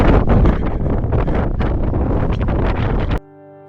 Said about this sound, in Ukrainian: Від сильних поривів вітру приходилось ховатись за каміння